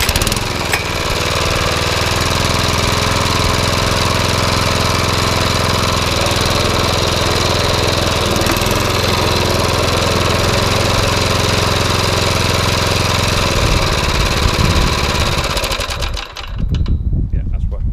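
A Suffolk Punch Qualcast petrol lawn mower running with the choke off after a year in a shed, a loud, steady, chattering engine drone close to the microphone that cuts out abruptly near the end.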